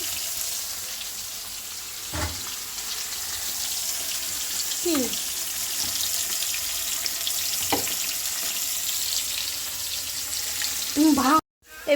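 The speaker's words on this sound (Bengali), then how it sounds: "এই যে মাছ ভাজা বসিয়ে দিলাম" A constant loud hiss of fish frying in a pan fills the background, broken by a few brief clinks and faint voices, ending in a sudden cut.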